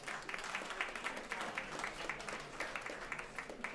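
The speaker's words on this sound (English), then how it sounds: "Can we just have another round of applause for that great panel?" A round of applause for a panel at a New York City tourism recovery event, fairly faint and distant, with a steady patter of many hands clapping throughout.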